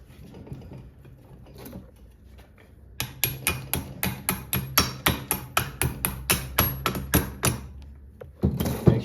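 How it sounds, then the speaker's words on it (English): A hammer taps a bearing into a buggy's independent rear suspension axle against a spacer, striking about fifteen sharp, evenly spaced blows close by after a quieter stretch of handling noise. "Just gonna give it a good little tap, make sure it's all the way in."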